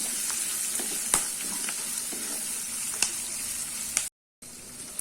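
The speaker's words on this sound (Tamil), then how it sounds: "ஒரு கேரட், இந்த காய் கொஞ்சம் வதங்கட்டும்." Carrot and beans sautéing in a pan for aval upma, a soft, steady sizzle with occasional sharp clicks of stirring. The sizzle cuts out briefly near the end and then resumes.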